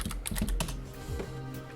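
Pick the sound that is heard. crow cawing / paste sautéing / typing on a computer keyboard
typing on a computer keyboard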